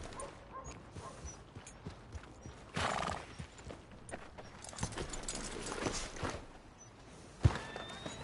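Horse hooves clip-clopping at a walk with a sharp whinny and jangling tack in a video game, close and fairly quiet, with a louder burst partway through and a thump near the end.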